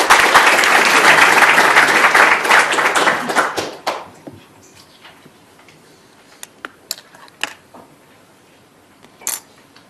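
Loud sustained applause from an audience welcoming a professor to a lecture, a dense wash of clapping for about four seconds that then fades into scattered claps, light taps and room noise.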